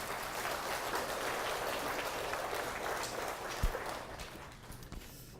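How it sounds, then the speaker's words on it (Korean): A church congregation at a Sabbath service applauds to encourage the children, giving a soft, steady patter of many hands from a distance that slowly thins out toward the end. "이 아름다운 마음을 우리 수고한 어린이들에게 담아서 격려의 박수도 부탁드리겠습니다"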